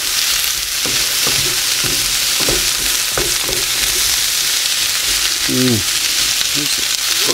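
Potatoes, onions and a whole red pepper fry in a pan over medium heat, a loud continuous sizzle with scraping stirs throughout.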